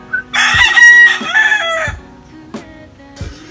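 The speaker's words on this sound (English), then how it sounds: "These are the roosters." Roosters crow loudly and close by, one long cock-a-doodle-doo followed by shorter clucking calls and a second, fainter bird.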